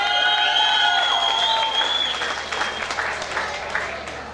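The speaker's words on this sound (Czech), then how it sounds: "Obrovský potlesk pro Jirku." Enthusiastic audience applause at a footbag exhibition, loud dense clapping that slowly tapers, with high whistles and cheers early on and a murmur of crowd voices.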